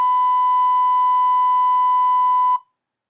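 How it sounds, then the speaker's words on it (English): A pure, steady synthesized sine wave tone holds at a constant loud level for about two and a half seconds, then cuts off abruptly into silence. "Here's a sine wave."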